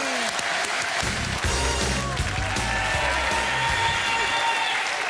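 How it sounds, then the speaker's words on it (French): Television game show audience applauding a young male contestant, sustained loud clapping with some cheering, while music plays underneath throughout. "Applaudissements pour ce jeune homme, mesdames, messieurs"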